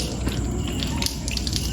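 Cold tap water runs steadily for washing, a continuous close splash and hiss with occasional drip-like ticks and no voices.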